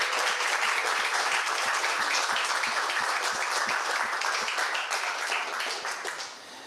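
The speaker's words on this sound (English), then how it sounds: "I want to give all of them a round of applause for showing up and doing everything they did." An audience at a radio club meeting gives a sustained round of applause, dense clapping that holds steady before tapering off at the end.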